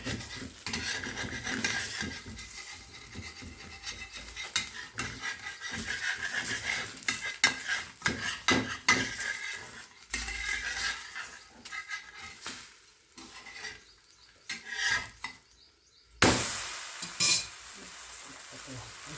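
Dhapati flatbread being roasted with oil on a tava griddle in a Maharashtrian home kitchen: soft sizzling and scraping with utensil clinks and clatter that come in irregular bursts, plus a louder clatter near the end.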